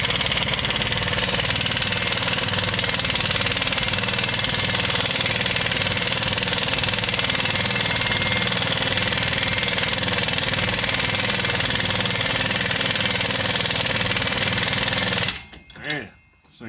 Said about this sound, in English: We're going to take a 36 millimeter socket here, see if we can get this axle nut off